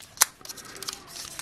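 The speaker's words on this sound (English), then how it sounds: "Using the scissors because the packs are so hard to open up this year." Scissors cutting open an Upper Deck 2020-21 hockey trading card pack from a tin, one sharp close snip followed by faint crinkling of the foil wrapper.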